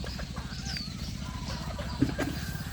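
Chickens cluck around a rural Thai home garden in a rapid, rhythmic string of close clucks with a brief louder squawk, while people talk in the background.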